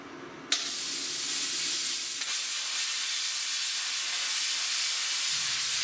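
Plasma cutter slicing through sheet metal as it rides along a guide carriage, starting with a sharp ignition pop and then a steady, loud, close hiss that holds level for several seconds.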